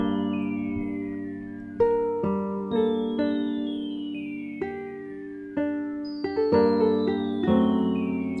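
A music sample for a loop, time-stretched and pitched down two semitones, plays as a sequence of plucked melodic notes with gliding pitch slides, close and clear with no voices.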